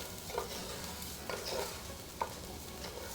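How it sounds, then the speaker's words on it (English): Arborio rice toasting in a pan as it is stirred, with soft, quiet scraping and light sizzling and a few faint taps against the pan, no talking. "As you toast your rice, make sure that you keep moving it around so none of it really sticks to the bottom."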